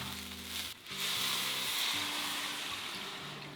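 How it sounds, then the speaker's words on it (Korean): Abalone stir-fries with soaked rice in a pot, giving a steady, soft sizzle throughout, with faint tonal hum underneath and a brief dip near the start. "30분 불린 쌀과 함께 볶아줬어요."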